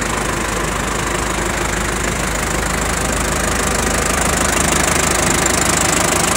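A Shibaura 5346 four-cylinder Japanese tractor engine idles steadily, a constant dense rumble with a faint knocking texture held at an even level throughout, with no talking.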